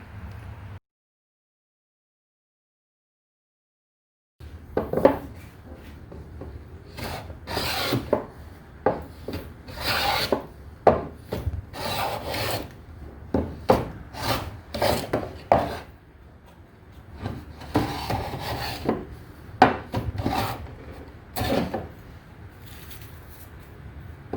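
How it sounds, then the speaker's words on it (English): A Lie-Nielsen No. 5 jack plane shaves flame curly ash, its irregular dry rasping strokes coming close and clear, with a brief silent gap near the start before the planing resumes. "I've almost flattened this beautiful piece of ash right here."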